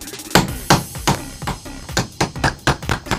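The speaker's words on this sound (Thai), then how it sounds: "ลงมือตอกได้เลยค่ะ" A hammer punches holes for a homemade face shield built from sunglasses or eyeglasses. Roughly nine sharp, close strikes land at a loose, slightly uneven rhythm with no talking.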